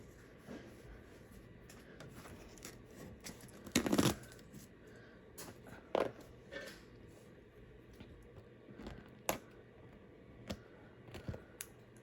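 Embroidery backing is torn away like paper from an item hooped for a Ricoma EM1010 machine, with quiet crinkling and several sharp, brief ripping bursts spread out in a quiet room.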